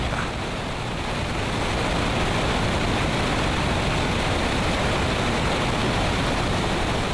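Broad, steady roar of a waterfall on the Mekong River, a dense wash of rushing water filling the whole clip at constant loudness with no voices.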